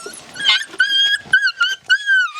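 A dog whimpering and yipping close by, a series of high, thin whines and short yelps in uneven bursts with brief pauses between them.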